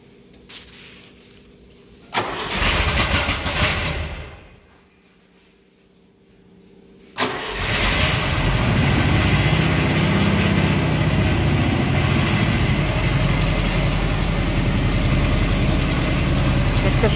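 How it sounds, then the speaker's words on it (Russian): ZAZ-968M car engine with a reworked carburetor and suspected burnt-through muffler, cranking and catching twice, then settling into a loud, steady, noisy rattling idle, close by. "Что-то тарахтит, Макс"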